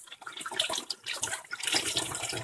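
Water runs from a kitchen tap while spinach is rinsed beneath it, a steady close splashing gush that lasts throughout, alone with no talking.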